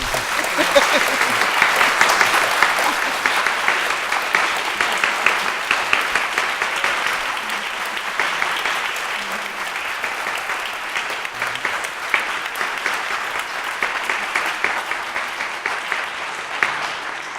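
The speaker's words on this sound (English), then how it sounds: "Please applause for our guests." An audience at a Ford Hall Forum event applauds the guests, a steady, full round of clapping from many hands that holds evenly for the whole stretch.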